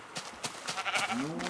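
A short bleat from a Minecraft sheep, quiet and close, rising at the end, with faint game clicks and steps before it.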